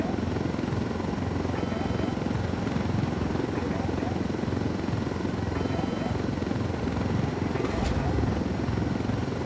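A helicopter in the video game Ghost Recon Wildlands gives a steady, dense rotor and engine drone that fills the whole stretch at an even, fairly loud level, with no talk over it.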